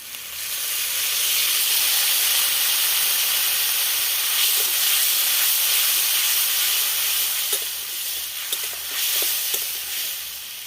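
Loud, steady sizzling and hissing steam fills the clip, a sharp close crackle as water hits frying ginger, turmeric and chilli powder in hot oil, with a few scraping stirs.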